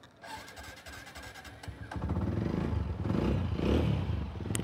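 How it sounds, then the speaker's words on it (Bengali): A second-hand motorcycle engine starts: quiet clicks and clatter, then the motor catches about halfway through and settles into a steady, close running rumble. "ভিউয়ার্স, আমরা গাড়িটা স্টার্ট দিয়ে আপনাদেরকে সাউন্ডটা শুনিয়ে দিচ্ছি।"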